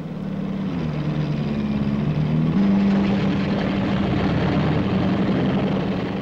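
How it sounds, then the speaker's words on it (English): A helicopter hovers beside the Dutch aircraft carrier Karel Doorman, a steady, loud rotor and engine drone holding on without a break. "The task of this helicopter is to hover in the immediate vicinity of the carrier"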